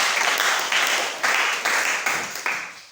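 A church congregation claps together in worship, a steady burst of loud, close applause lasting a few seconds.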